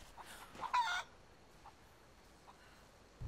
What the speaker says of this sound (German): Kommt ihr denn alle her, ihr Hühner?